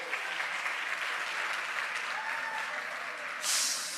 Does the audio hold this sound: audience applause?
yes